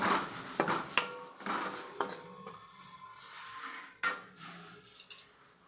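Crushed millet rotla being mixed with spices in a pan, a faint run of spoon clinks and metallic scrapes against the pan at irregular intervals, with one sharper knock near the end and no talking.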